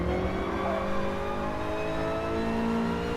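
A race car at full throttle in Gran Turismo Sport, a steady, droning engine whine climbing slowly in pitch as it pulls through the gears, continuous and fairly close.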